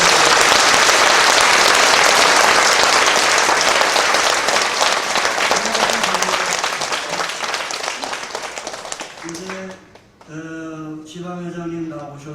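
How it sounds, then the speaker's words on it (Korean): A church congregation applauds loudly and steadily for a long stretch at a pastor's installation ceremony at Yeongdeungpo Church; the clapping fades and a voice follows at the end. "여러분 인사할 때 고맙습니다 하는 마음을 담아서 박수 한번 해주십시오"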